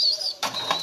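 A pigeon kept for breeding moves about and flaps its wings, one sudden burst of feathery flutter following a brief thin high tone; close and short, with no talking.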